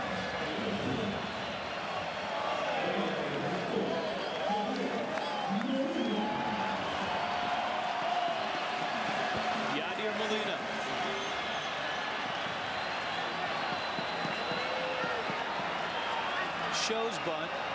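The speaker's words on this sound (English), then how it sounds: "Now the crowd comes to life." A baseball stadium crowd at a World Baseball Classic game between the Netherlands and Puerto Rico stirs into a steady, dense roar of cheering that holds at an even level throughout, with scattered shouts and claps mixed in.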